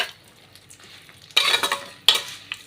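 Oil for a homemade hair-fall oil sizzles and crackles as it heats and bubbles in a pan, quiet at first, then two sudden louder bursts of spattering frying noise.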